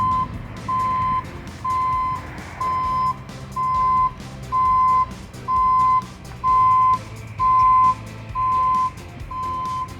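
A 2016 Dodge Caravan wheelchair-accessible van emits a steady series of loud, evenly spaced reversing beeps, about ten in a row, over low engine rumble while it parks.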